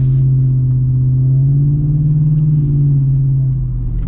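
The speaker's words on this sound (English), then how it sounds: "Just hearing the V8 rumble." A deep, steady V8 engine rumble from a lowered 2025 Ford F-150 Black Widow truck idling close by, low and throbbing with a slight rise in the middle, no voices.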